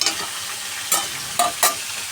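A fish head with turmeric fries in a pan, with a soft continuous sizzle broken by three or four sharp scraping stirs of a spatula.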